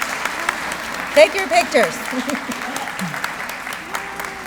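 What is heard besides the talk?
audience applause at a ceremony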